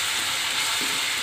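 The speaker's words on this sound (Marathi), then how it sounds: "आता मी ही भाजी आणि बेसन पीठ मिक्स केलं तर ते कढईमध्ये टाकलेलं आहे, ते व्यवस्थित असं हलवून घेऊ" Spinach mixed with gram flour sizzles and crackles steadily in a hot wok as it is stirred, a close, loud, continuous frying hiss with no talking.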